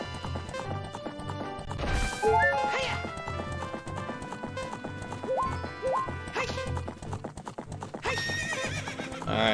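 Horse galloping in Zelda: Ocarina of Time, steady clip-clop hoofbeats with occasional neighs over game music, with someone talking over it.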